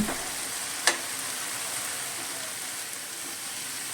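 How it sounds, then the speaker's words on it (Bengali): A spice masala of onion and ginger being fried and stirred in a pan for a sour khoira fish curry with hog plum, a steady dense sizzle with a sharp scrape near the start, no talking. "আবারও আমি খুব ভালো করে নেড়ে দিলাম"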